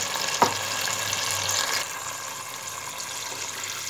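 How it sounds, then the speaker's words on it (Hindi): Water poured into a pot of fried beef and oil for beef dal gosht, giving a steady rushing hiss with sizzling that starts with a sharp splash and continues evenly throughout. "अब हम इसमें गोश्त गलने का पानी डाल देंगे। पानी हम इतना डालेंगे गोश्त इसमें डिप हो जाए।"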